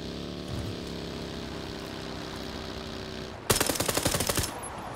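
A rapid burst of 9mm pistol fire in a battle royale style video game, roughly a dozen quick sharp shots in about a second, loud over a steady droning engine hum that runs throughout, with no talking.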